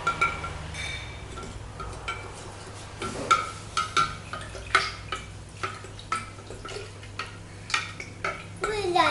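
A spoon stirring salt into water in a pot to dissolve it for salted eggs, light repeated clinks and scrapes at an uneven rhythm, close and fairly quiet, with a low hum underneath.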